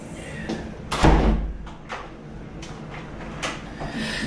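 A pickup truck door rattling and thudding as it is rocked back and forth to open it, with a heavy knock near the start and lighter knocks after.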